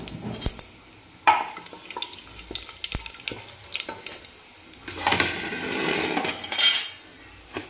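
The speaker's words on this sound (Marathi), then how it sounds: "तर सगळ्यात अगोदर आपण तेलामध्ये हे तेजपत्ता टाकू आणि हे बाकीचे पण खडे मसाले सगळे टाकून घेऊ।" Bay leaf and whole spices drop into hot oil for a mutton curry, giving a quiet, close sizzle broken by scattered clinks and scrapes of a spoon stirring against the pan.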